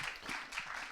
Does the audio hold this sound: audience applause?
yes